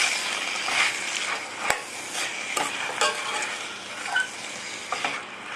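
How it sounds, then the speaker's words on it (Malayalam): Tomatoes frying with browned onions for a coconut milk chicken curry give a continuous close sizzle, with a spoon stirring through the pan and a few sharp clinks against the pot. "തക്കാളി ചേർത്തിട്ട് നന്നായിട്ട് ഇളക്കാം."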